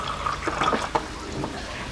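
Cold water poured into a blender holding mango, a short splashing fill with a few trickling drips, fairly close and alone.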